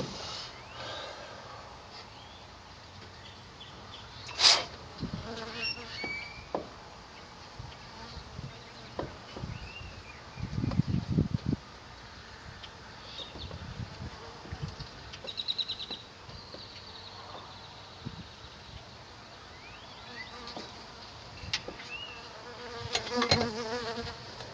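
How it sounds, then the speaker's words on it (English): A bee buzzes around outdoors, its drone coming and going in faint passes with a few louder close flybys, alongside scattered thumps and handling noises. "Got a bee buzzing around me."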